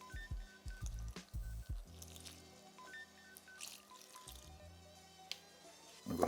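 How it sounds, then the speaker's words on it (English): Lukewarm water poured into a bowl of flour, yeast and vegetable shortening while mixing bread dough, giving wet splashes, drips and squishy sloshing in close, quiet bursts with brief pauses between them. "Now we add in 1 cup of lukewarm water."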